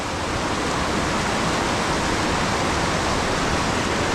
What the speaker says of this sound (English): Into a rocky waterfall.